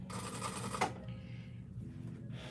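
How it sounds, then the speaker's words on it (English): Sewing machine stitching pleats on a girl's dress, one fast, quiet burst of stitching for under a second, then a low mechanical hum as the run stops. "Pleat, sew, pleat, sew, pleat, sew."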